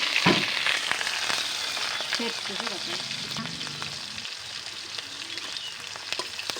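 Garlic and onion paste frying in oil, a steady close sizzle with scattered pops and a few scraping stirs, moderately quiet and continuous.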